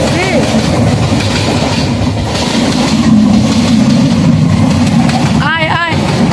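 A passenger train runs past close by with a steady, loud rumble and rattle of wagons that fills the stretch, and a brief squeal sounds near the end.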